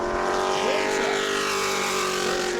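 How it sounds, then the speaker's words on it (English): A Pro Late Model race car at New Smyrna during qualifying, its engine roaring loud and steady throughout as it runs on the track, with the pitch shifting slightly as it moves. "4th quick for Ruben Pukaris as our final qualifier hits the track"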